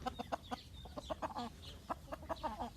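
Indian game chickens, a rooster and hens, cluck and chatter in rapid, overlapping bursts, a busy farmyard chorus of several birds close by, with no pause.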